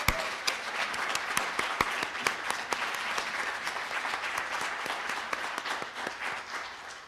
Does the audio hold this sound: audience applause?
yes